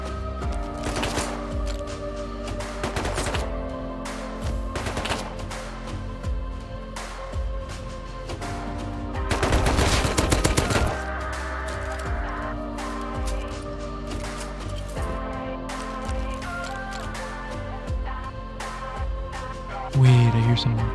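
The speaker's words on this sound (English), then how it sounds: "now the scientists are shooting me." Rapid gunfire from scientist NPCs in the video game Rust, with bursts of shots crackling over a busy in-game soundscape of continuous background noise and music-like tones, loud and dense throughout.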